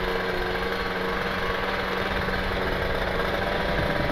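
A two-stroke motorcycle engine on a ride with a passenger aboard, throttle held light, gives a continuous buzzing drone with a rattly texture, loud and steady throughout with no voices.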